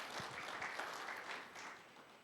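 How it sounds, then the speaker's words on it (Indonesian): Congregation applauding during a Sunday church service, a faint, steady wash of many hands clapping at a distance, fading slightly toward the end. "Mari berikan tepuk tangan."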